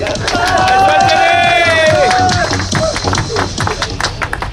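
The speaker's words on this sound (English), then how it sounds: "A huge round of applause for Mr. Gerald." A crowd at a school inter-batch football tournament applauds the junior best goalkeeper, with loud clapping mixed with cheering, whistle-like calls and crowd noise.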